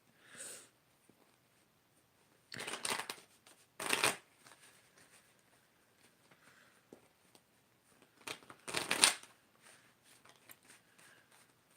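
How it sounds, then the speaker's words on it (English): Tarot cards being shuffled up close in a quiet room, with several rough riffling bursts of different lengths separated by softer rustling and pauses, and no talking. "So I do kind of have like a process when I shuffle cards"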